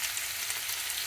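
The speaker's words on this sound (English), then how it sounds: "Just keep stir frying" Zucchini and onion stir frying in a pan, a close, continuous bright sizzle with steady crackle and no pauses.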